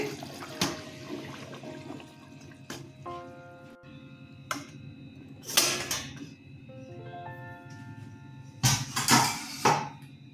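A lid goes onto a pot of fish curry with jackfruit seeds, pointed gourd and potato, with the gas just switched off. Several sharp metallic clanks ring out, then a few more clatters come close together near the end.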